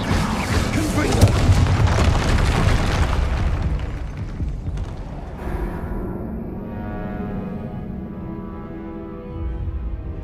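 Confringo blasting curse explosion in a Harry Potter video game, a loud deep boom with a crackling burst that decays into a ringing tail.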